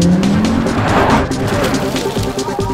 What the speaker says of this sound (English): let's fire up the engine and see if it really deserves that badge